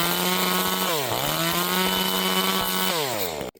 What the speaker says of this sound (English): Farmac F2511 chainsaw just hit the market. This lightweight entry saw is very powerful.